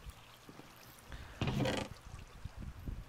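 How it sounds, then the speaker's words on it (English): Flowing water carrying items in the Minecraft video game, a soft trickling and splashing that swells into a brief louder gush midway, then settles back to a faint running burble. "As you can hear, I'm using water to transport items"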